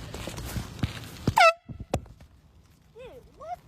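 An air horn blares in short bursts, one loud blast cutting through background noise and commotion, followed later by a couple of quieter, wavering horn tones.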